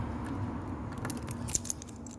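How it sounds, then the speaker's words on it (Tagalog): Keys jangle softly, near and alone, as someone unlocks the door to a hardware store warehouse, with a few sharper metallic clicks toward the end. "kailangan kong buksan ng pinto ito guys ang susi oh kailangan kong buksan"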